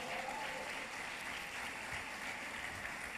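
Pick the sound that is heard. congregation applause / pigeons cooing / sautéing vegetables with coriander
congregation applause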